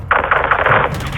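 A single loud burst of automatic gunfire in Call of Duty Modern Warfare 2, a rapid string of close shots lasting under a second before cutting off.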